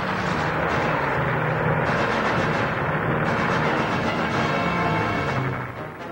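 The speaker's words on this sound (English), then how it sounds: "There's a salvo of rockets going in." A salvo of rockets fired from attacking aircraft makes a loud, dense roar with a rumbling low end that holds steady and then eases slightly at the very end.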